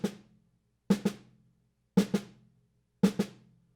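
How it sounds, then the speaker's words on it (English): Two-note drags on a drum, each a quick double bounce of sticks, repeat four times at roughly one-second intervals, crisp and close in an otherwise quiet room. "Sometimes we do want to play a drag that only has 2 notes as the pickup."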